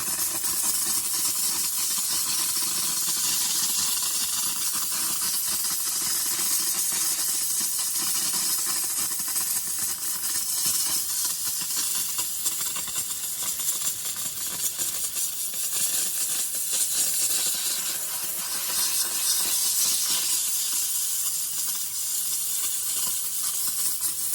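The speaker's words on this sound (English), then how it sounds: "I was anxious to see if the steam cleaner would cut through all that heavy grease." A Saker handheld steam cleaner with its nozzle attachment blasts steam onto heavy grease, a loud steady hiss that runs unbroken throughout with no talking.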